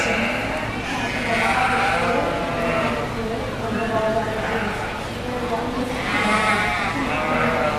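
Romney sheep bleat in a show ring while a judge looks them over, several overlapping calls rising from a steady crowd murmur, with a clear louder bleat near the end.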